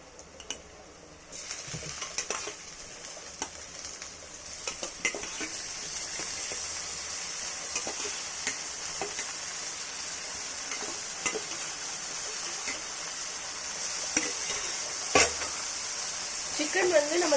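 Boiled chicken sizzles and fries in a pan for hotel-style pepper chicken fry, a steady bright hiss with occasional stirring clatters while someone talks over it.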